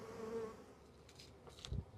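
Honeybees from a swarm flying around a hive box, a faint, thin buzzing close by with an occasional louder pass of a single bee and no talking.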